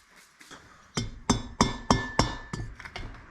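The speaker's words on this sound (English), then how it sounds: "let me get the rubber mallet" A rubber mallet taps repeatedly on a Twin Cam motorcycle engine's push rod tubes: about seven or eight close, fairly evenly spaced knocks with a slight metallic ring, growing firmer and then fading near the end.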